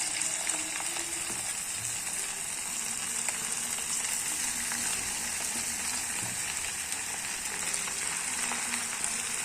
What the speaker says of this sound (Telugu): ఆయిల్ హీట్ అయిందండి. నేను మ్యారినేట్ చేసి పెట్టుకున్న చికెన్ ముక్కలు వేస్తున్నాను.